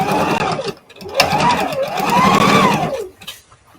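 A sewing machine sews a pillowcase seam in loud, close bursts, its motor whine rising and falling in pitch as it speeds up and slows, then trails off into quieter handling noise.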